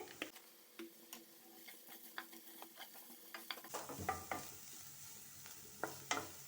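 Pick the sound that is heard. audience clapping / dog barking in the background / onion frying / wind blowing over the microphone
onion frying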